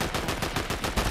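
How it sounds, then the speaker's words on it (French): Rapid automatic gunfire in a battle royale video game, a dense string of sharp shots fired in quick succession, loud and close, with no talk over it. "C'est qui tire, c'est toi-même?"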